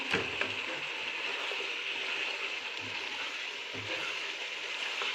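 Chopped cauliflower tipped into a pan of potatoes cooking for a mixed vegetable sabzi, giving a steady close frying sizzle with a few soft stirring knocks and low thumps.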